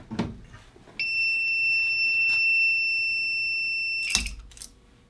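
A low primer alarm on a progressive reloading press sounds as a loud, steady electronic high-pitched tone lasting about three seconds, then cuts off after a sharp mechanical clack, with a few faint knocks before and after.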